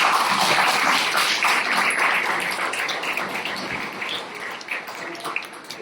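Audience at a public interest law course applauding to welcome a speaker, a loud, dense wash of clapping that slowly thins and softens over several seconds.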